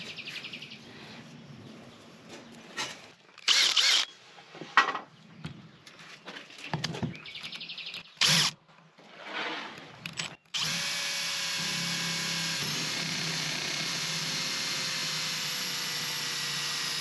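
A power drill bores a hole on an off-grid homestead in Portugal, starting with short, loud whirring bursts and stops, then settling into one long, steady, close drilling run, with faint birdsong in the background.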